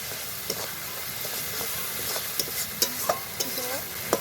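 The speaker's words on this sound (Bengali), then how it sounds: "সবগুলো মশলা আমি ভালো করে মিশিয়ে নিচ্ছি।" Spices with salt and sugar stirred in a frying pan for a Bengali vegetarian dish, a steady close sizzle under a few sharp scrapes and clicks of a spoon against the pan.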